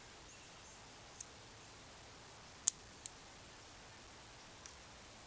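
Small shears trim branches on a crepe myrtle bonsai: four faint, crisp snips, irregularly spaced, close by over quiet room hiss, with no voices.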